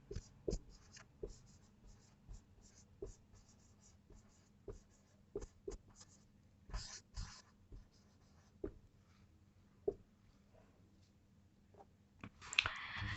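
Pen scratching out notes by hand on paper, short irregular strokes and taps spread across the span, quiet and close with pauses between bursts.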